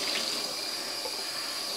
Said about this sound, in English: I'm just going to rinse this through with some cold water.